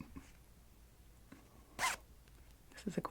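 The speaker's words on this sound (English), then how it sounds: "Sometimes I like to zip slow" A zipper on a fabric bag pulled in one short, crisp zip, near and fairly loud, with soft faint rustles around it and a few light handling taps at the end.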